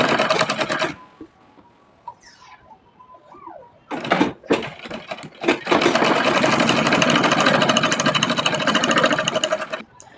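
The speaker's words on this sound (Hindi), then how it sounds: "हैंड का जो पट्टी है उसको भी मैं पहले सिला लेती हूँ" A sewing machine stitches the sleeve strip of a frock, starting with a loud whirring run, pausing briefly for a few clicks and handling sounds, then running steadily at close range without talk.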